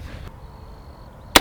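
A single sharp, loud M1 Garand rifle shot cracks out near the end after a quiet outdoor stretch, with no talking.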